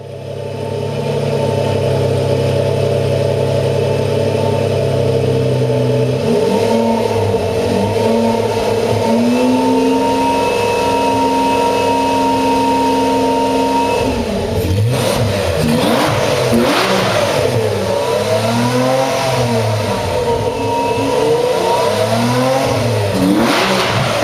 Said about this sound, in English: With the V12 inside it, this 4-wheel drive Fiat produces 580 brake horsepower and 490 Nm of torque.